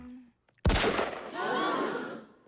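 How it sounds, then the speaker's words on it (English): A single sharp cartoon gunshot cracks out after a short quiet gap, followed by a sustained scream-like wail, set in a Ford's Theater scene. "Oh my God, the president's been shot!"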